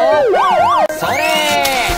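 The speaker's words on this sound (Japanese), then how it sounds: "お次はパトカーが来たぞ。" Toy police car siren, part of a Plarail toy train layout, wailing up and down in quick loud sweeps close by, then settling into a steadier rising tone.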